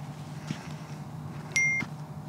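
A phone alert tone from a SIZZAPP GPS tracker's theft warning for a Vespa scooter: one short, bright electronic beep, close and clear, over a low steady hum.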